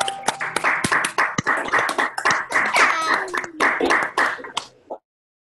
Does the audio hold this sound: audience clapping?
yes